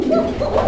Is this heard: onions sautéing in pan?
no